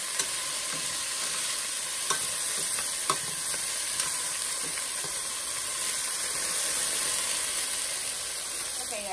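Potatoes fry in a pan for bistec con papas, a steady sizzling hiss running throughout with several sharp stirring clinks and scrapes scattered across it, fairly close and uninterrupted by talk.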